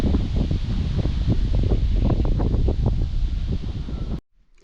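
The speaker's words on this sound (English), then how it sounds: "there's a constant wind" Constant gusting wind in the remote Alaskan bush, a loud, steady rushing roar buffeting the microphone for about four seconds before cutting off abruptly to near silence.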